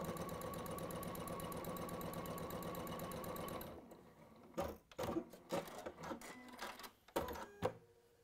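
A sewing machine runs steadily for nearly four seconds as it chain-pieces quilt pieces, with a fast even stitching whir. It then stops, leaving only scattered light handling taps and clicks.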